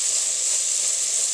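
Eggplant and shrimp frying in a pan hiss with a steady, bright sizzle after water is added, continuous and moderately loud with no talking.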